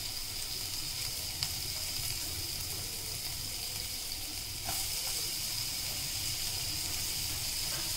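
Chopped onion sizzles in a pan for pav bhaji, a steady, close frying hiss with a faint tick or stir now and then, growing slightly louder partway through.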